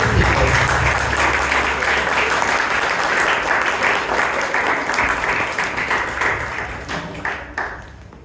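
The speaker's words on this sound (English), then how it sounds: "We now give a big round of applause to all the speakers." Sustained applause from the audience at a Toastmasters club debate meeting fills the room, dense and even clapping that tapers off toward the end.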